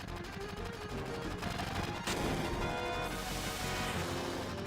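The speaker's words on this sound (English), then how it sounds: "Gunfire?" Gunfire rings out in Final Fantasy 7, dense and continuous under game music and ambience, with a sharp crash or burst in the middle followed by a steady, noisy wash of shots.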